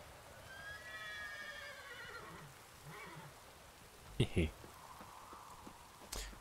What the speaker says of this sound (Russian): Лошади пасутся.